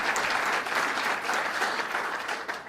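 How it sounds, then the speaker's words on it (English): An audience at a New York government announcement gives a steady round of applause, dense clapping that holds evenly throughout the short stretch without any talk over it. "Give him a round of applause, Borough President Molinaro."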